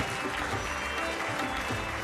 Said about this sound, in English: An extra round of applause for that.